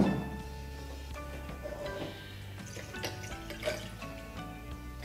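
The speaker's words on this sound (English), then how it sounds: "I add some ice and 60 milliliters of blended Scotch whiskey." Blended Scotch whisky is poured over ice in a glass, a soft close trickle and splash with faint clinks of ice, steady and quiet throughout.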